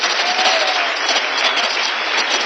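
A church congregation claps in steady, dense applause that stays loud and close for the whole stretch, with no voices standing out.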